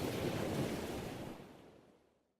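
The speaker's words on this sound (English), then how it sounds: "The waves were choppy, and he had to paddle harder than before." Choppy ocean waves churning under a blustery wind, a broad wash of surf noise that rolls steadily and then fades away toward silence.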